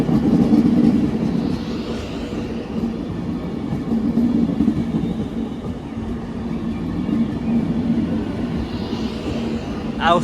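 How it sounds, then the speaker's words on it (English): Diverted Avanti West Coast Pendolino electric train, running from Liverpool Lime Street to London Euston, rumbles past steadily for several seconds, a continuous rolling roar at moderate distance. "passing through now, let's get Diverted Avanti West Coast Pendolino from Liverpool Line Street to London Euston"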